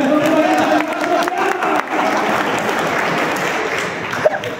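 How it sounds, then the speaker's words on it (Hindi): Loud, dense applause from an audience at a CTE Samastipur program event, sustained steadily with a few voices mixed in and one sharp clap standing out near the end. "बहुत जोरदार ताली।"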